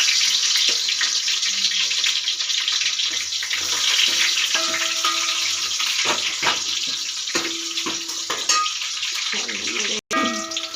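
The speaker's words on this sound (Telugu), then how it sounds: "నూనె వేయండి ఎర్రగడ్డలు వేసాను" Chopped onions frying in oil in a pan, a steady loud hiss running throughout with occasional brief clinks and scrapes, no talking.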